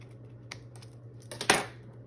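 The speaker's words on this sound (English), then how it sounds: "I want to cut some corners on these tags" Paper tags are trimmed with a corner cutter in a quiet room, giving a few light clicks and then one sharp, crisp snip near the end over a low steady hum.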